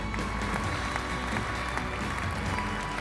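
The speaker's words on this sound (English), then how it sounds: "A big applause." A large audience at the SolidWorks World 2019 conference general session claps steadily, a dense, even wash of applause filling the hall from start to finish.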